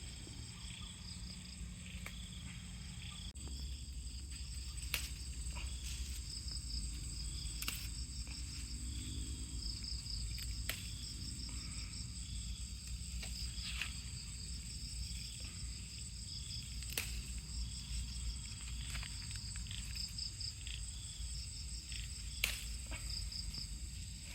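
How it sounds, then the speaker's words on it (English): Crickets and other insects chirp steadily at dusk on a farm in Thailand, a dense, continuous high trill holding at an even level throughout, with a low rural hum underneath and no voices. "this time of day the mozzies come out, don't they? All the bugs come out."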